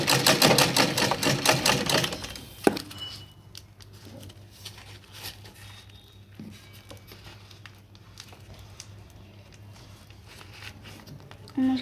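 A sewing machine stitches handles onto a bag made from a rice sack, running in a loud, rapid burst for about two seconds, then giving way to faint handling and rustling noises.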